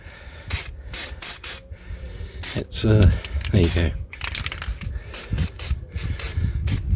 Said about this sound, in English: Try not to spray it on the brakes